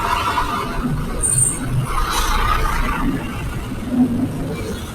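Busy road traffic on Roxas Boulevard in Metro Manila, heard from a Yamaha Lexi 155 motorcycle, a continuous rumble of engines and passing vehicles with a brief high whine and horn-like tones.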